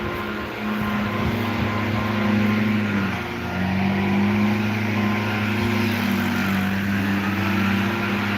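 Lawnmowers run nearby in Houston, a continuous droning hum with a pitch that wavers and shifts up and down over several seconds, and no voices.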